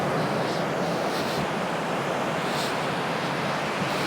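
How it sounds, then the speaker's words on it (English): Ocean waves roll onto a beach near a cave in Western Australia on a sunny morning, a loud continuous surf wash with gentle swells and some wind rumble, no voices. "As the waves roll in that sunny area spot just there"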